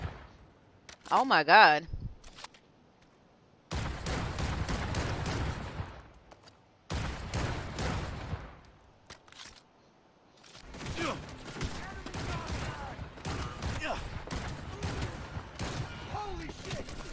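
Rapid gunfire from weapons in the video game Cyberpunk on PS5, bursts of automatic shots in several stretches separated by pauses, with a startled voice exclaiming over the shooting.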